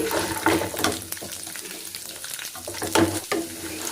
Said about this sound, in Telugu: సో ఇవన్నీ ఆయిల్లో బాగా వేయించుకోవాలి ఇవి బ్రౌనిష్గా అయితేనే టేస్ట్ బాగుంటుంది సో ఇలా తిప్పుకుంటూ బాగా గా వేయించుకోవాలి